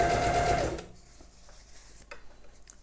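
Sewing machine stitching bias binding onto fabric: a close, steady mechanical whir for under a second, then it stops, leaving faint handling noises.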